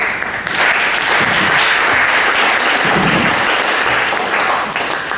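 An audience at a poetry and criticism event claps for a poet and independent editor, loud, dense applause sustained evenly for several seconds with some nearby hand claps and thumps.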